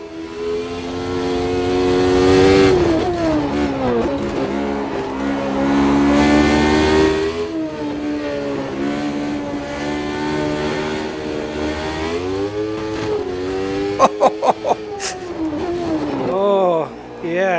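Race car engine in the Automobilista 2 sim racing game, revving and rising through gears with sustained harmonic whine, several sharp shifts and pops near the end, loud and continuous under someone talking.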